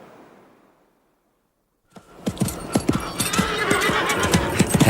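A ridden horse gallops across a beach after a brief near-silence, hoofbeats rapidly pounding close and loud with a whinny among them.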